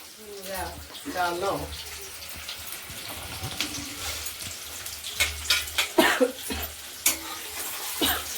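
Onions hit hot oil in a home kitchen pan and fry with a steady sizzle, stirred with scraping clatters that grow busier, close up, while a voice talks over it at times.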